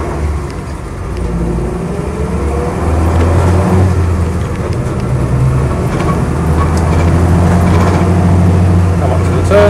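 Land Rover Series III 88-inch hardtop engine droning steadily while driving, a loud low-pitched rumble with rising and falling revs and road noise, close up inside the cab.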